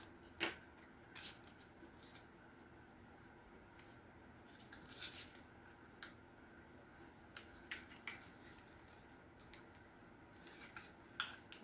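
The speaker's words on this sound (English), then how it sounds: "our next step is to fold out the pleat. Fold back the collar." Paper being folded and creased into a retro 1950s-style dress, with quiet, close crinkles and rustles in scattered bursts.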